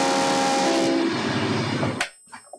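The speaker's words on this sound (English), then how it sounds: "a freight train also runs on these very tracks" A freight train with carriages stretching over 2 kilometres rumbles loudly along the tracks with a sustained horn tone, then the roar cuts off abruptly, leaving quiet.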